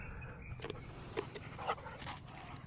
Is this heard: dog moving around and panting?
yes